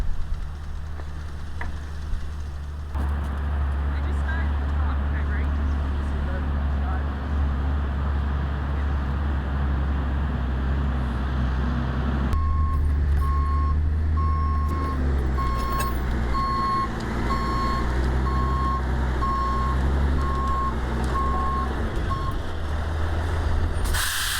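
A heavy concrete mixer truck rumbles nearby with a sharp air-brake hiss, then a steady reversing beep repeats over the idling engine.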